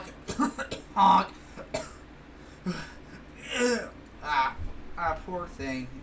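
Performer voicing a series of coughs and throat-clearing sounds for a clown character, several close bursts spread across a few seconds, with spoken voice between them.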